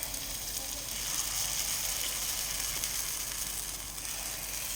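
Ponganalu batter sizzling in a hot ponganam pan, a steady, even hiss of frying that carries on without a break, close and fairly quiet.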